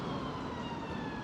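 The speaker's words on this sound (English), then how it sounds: "what the hell happened now? Ambulance." Ambulance siren in a city street, a steady wailing tone heard at moderate distance over constant traffic hum, with no talking.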